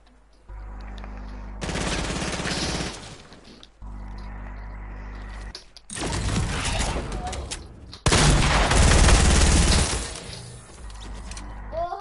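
Shooting-match video game gunfire in several long, loud stretches of rapid automatic shots, broken by brief pauses and low droning game background, with some voice chat mixed in.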